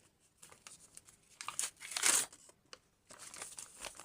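Plastic packaging crinkles and rustles close by in short handled bursts, with one louder tearing crackle in the middle.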